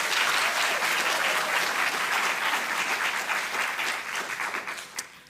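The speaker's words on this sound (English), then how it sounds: "UKZN deserves a round of applause for that" An audience applauds steadily and loudly at a university campus speech by a sitting US ambassador, dense clapping that holds for several seconds before thinning slightly at the end.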